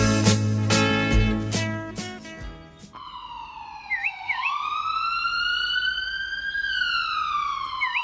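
An ambulance siren rises and then wails in long sweeping tones that stay loud and close, after a brief burst of music at the start.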